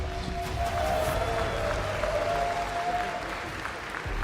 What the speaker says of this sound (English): please, can I get a round of applause for the lone hero representative